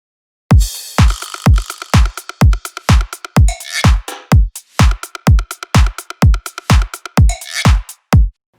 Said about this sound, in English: The first thing I want to go over are the drums,